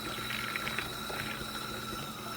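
Tap water runs steadily into a container at a sink while four cups are measured for a homemade CO2 unit, a continuous watery rush with no talk.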